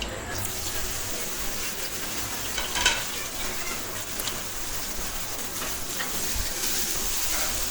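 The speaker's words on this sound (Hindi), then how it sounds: "अब मैं जो कटी हुई तोरियाँ हैं इसमें शामिल कर दूँगी।" Chopped ridge gourd added to ghee in a pan for turai sabji, giving a steady close sizzle with stirring scrapes and occasional clinks of a spoon against the pan.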